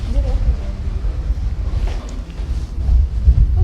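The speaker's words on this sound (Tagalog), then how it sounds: "napakalakas ng hangin" Strong wind roars and buffets the microphone at Zao Onsen ski resort in snowy Yamagata, a continuous loud low rumble with gusts, while people speak over it.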